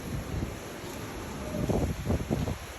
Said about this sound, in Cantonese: 出面橫風橫雨